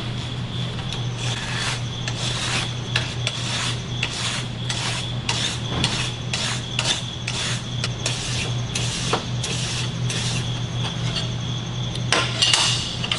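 A wire brush scrubs aluminum clean ahead of AC TIG welding, giving a steady series of short raspy strokes close up over a constant low hum.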